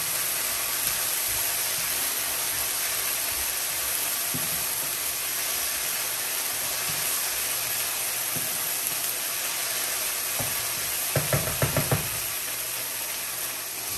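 Minced garlic and the white part of scallions sizzle in a hot pan for beef lo mein, making a steady, even hiss throughout. A few quick utensil clicks come near the end, with no talking.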